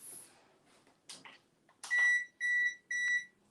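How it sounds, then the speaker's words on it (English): Someone sets a kitchen oven timer during cooking: a few soft button clicks and rustles, then three loud, evenly spaced electronic beeps close by. "If I know how to use my own oven timer."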